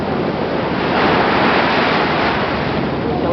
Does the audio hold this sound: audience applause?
no